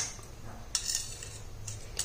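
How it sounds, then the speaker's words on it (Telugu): A spoon clinks and scrapes against a bowl while mashed potato filling is mixed in a home kitchen. The knocks are soft and scattered, with a few sharper taps over a quiet background. "ఇప్పుడు బాగా కలుపుదాం."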